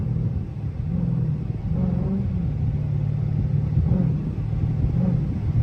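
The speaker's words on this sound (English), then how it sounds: "You see how it's revving?" Chrysler 300C SRT engine held at high RPM while cruising at a steady pace, a deep continuous rumble with slight surges in pitch, heard from inside the car.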